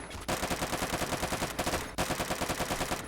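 Rapid automatic gunfire from a Roblox Phantom Forces weapon, firing an 1800 RPM double-shot burst, crackles in loud, fast, evenly spaced bursts separated by brief pauses, with no voices.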